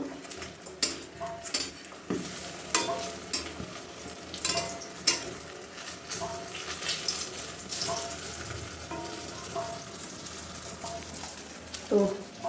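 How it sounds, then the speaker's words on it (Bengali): Eggplant fries in a pan with a steady, close sizzle and crackle. Scattered clinks and knocks sound through it, and faint background noise runs throughout. "বেগুন ভাজা হচ্ছে"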